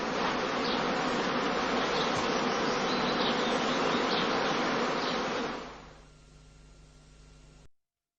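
Honey bees swarm around straw heather skeps at an apiary in northern Lower Saxony during the cast swarming period, a dense, loud, steady buzz that drops abruptly to a faint hum near the end.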